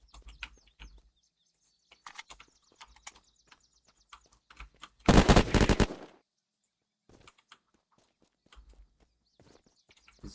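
A gun in the video game BeamNG fires a rapid, loud burst of about a second, standing out amid quiet clicks and faint taps before and after.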